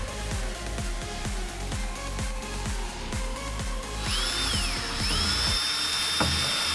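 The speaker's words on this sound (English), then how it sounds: "Now I'm screwing all the boards together, making sure every boards are attached and secured to each other." A power drill drives screws into wooden boards for a farmhouse bar table. Close, repeated whirring bursts come in a quick rhythm, then a sustained higher whine near the end.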